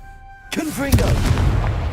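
A fiery Confringo spell blast in Hogwarts Legacy bursts in after a brief tonal lead-in, a loud booming hit with a crackling, rumbling tail.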